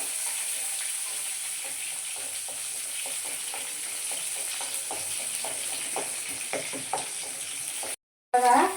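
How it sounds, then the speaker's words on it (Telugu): Mustard seeds and onions frying in hot oil, a steady bright sizzle running throughout with scattered crackles and pops, a brief cut near the end before the hiss resumes. "ఆయిల్ బాగా వేడెక్కింది ఫ్రెండ్స్ అందులో ఆవాలు ఎర్రగడ్డలు వేసి కొంచెం బాగా వేడి పెడతాను"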